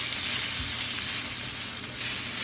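Long beans and green chillies sautéing in a pan, a steady dense sizzle that stays close and even from start to finish with no voices.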